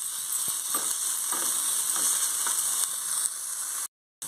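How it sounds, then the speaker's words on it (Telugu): Ginger garlic paste sizzles with onions in a hot pan for a soya chunk gongura curry, a dense steady frying hiss with regular soft scraping strokes of a spoon, cutting out abruptly near the end. "ఈ టైంలో ఒక 1 టేబుల్ స్పూన్ అల్లం తెల్లుల్లి పేస్ట్ని ఫ్రై చేసుకుందాం"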